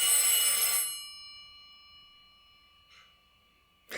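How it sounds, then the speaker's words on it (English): Old 1960s-70s pharmacy telephone ringing indoors: a loud metallic bell burst that rings out and slowly decays, then a brief faint tap and the start of another ring. "Sorry for the phone."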